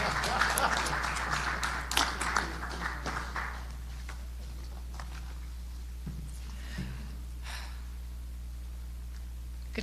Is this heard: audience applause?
yes